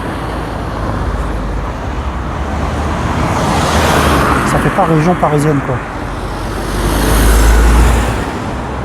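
Cars and traffic roll along a road beside the Seine, a steady roadway rumble with passing vehicles swelling louder near the end, while people chat casually over it.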